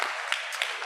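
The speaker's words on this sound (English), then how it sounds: "let's give all of ourselves a huge round of applause" A climate-change event audience in DC claps together, a dense steady patter of many hands with a few louder clap bursts, close and continuous for under a second with no talking.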